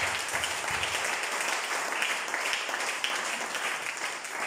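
A church congregation applauds steadily for several seconds, a dense and even wash of clapping that fills the whole stretch, with faint voices mixed in.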